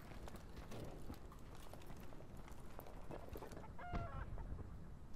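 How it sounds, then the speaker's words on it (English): Chickens cluck faintly in Call of Duty gameplay, buried in a continuous noisy game ambience, with one slightly clearer call about two-thirds through. "Hear a whole bunch of goddamn motherfucking chickens."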